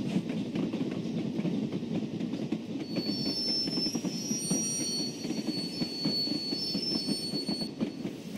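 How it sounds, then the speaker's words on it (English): A milk train pulls in with a steady low rumble of rolling wagons and faint high wheel squeal rising midway, continuous and fairly close, with no voices. "Tom and George pulled in with the milk train."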